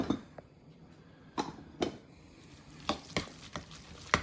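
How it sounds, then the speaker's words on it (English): Pimento cheese with red pepper oil is stirred in a bowl, a series of sharp, separate scraping knocks arriving irregularly, close and fairly quiet against a still background. "And now I'm going to stir it back up again"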